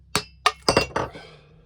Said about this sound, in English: Copper hammer.